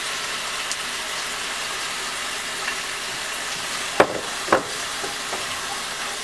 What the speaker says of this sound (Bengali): তারপরে আস্তে আস্তে আমি আদা রসুন পেস্ট সহ বাকি সব মশলাগুলো দিব।